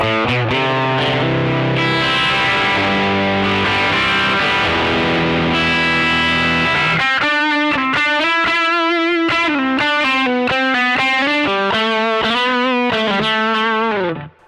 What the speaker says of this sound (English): It's a nice kind of heavy overdrive sound